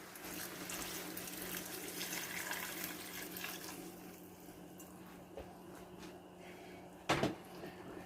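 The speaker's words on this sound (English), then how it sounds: "The last thing we'll have to do is just add the water." Water runs steadily into a pot, a broad rushing stream that eases off midway, followed by a brief clatter near the end.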